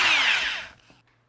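An M18 cordless drill set to speed 2 spins up in a loud, high-pitched whine with a falling pitch sweep, then cuts off abruptly after under a second, leaving a faint low hum.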